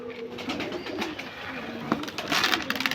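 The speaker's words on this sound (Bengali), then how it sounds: "কবুতরকে দাও খাবার" Pigeons coo and flutter close by on a rooftop feeding spot in a village, a steady low murmur with brief sharper bursts toward the end while a voice speaks faintly.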